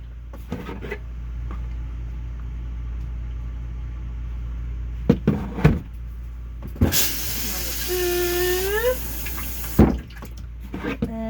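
RV tank treatment liquid is poured by the capful, with scattered clicks and knocks of the bottle and cap before a few seconds of rushing pour whose tone rises as it fills, then more handling.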